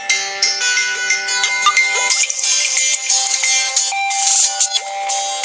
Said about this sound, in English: let's go ahead and play a ringtone here